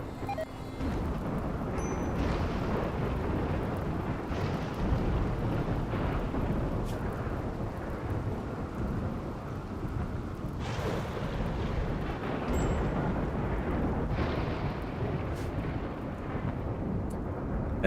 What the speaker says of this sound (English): That rainy thunderstorm should take out the rest here,